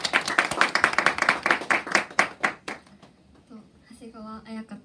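Audience applause at an in-store live acoustic concert in a Shimamura music shop, a dense burst of many hands clapping that fades after about three seconds, followed by quiet room tone and a faint voice.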